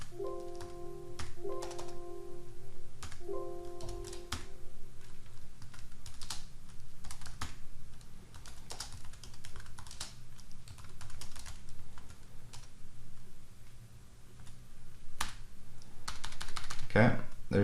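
Typing on a computer keyboard while entering a username at a Cisco 9800 wireless controller's command line: steady runs of fast, close keystroke clicks that go on throughout, with a few brief tones at the start and a louder clatter near the end.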